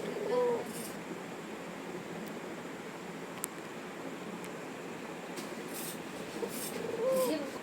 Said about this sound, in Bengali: ঘুঘু পাখি কিন্তু সুন্দর একটা ডাক ডাকে আপনারা অবশ্যই ডাকটা শুনতে পেলেন